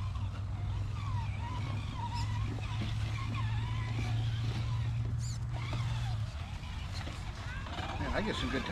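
An RC scale crawler spins its tires on rocks at Scale Mountain, with an electric motor whining in a steady hum and scattered scrabbling and gritty scraping, while people talk casually nearby throughout.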